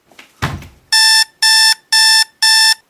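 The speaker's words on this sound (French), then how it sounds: "tu es le réveil" A loud electronic alarm clock ringing in four evenly spaced bursts of bright, buzzing tones, preceded by a short rustle.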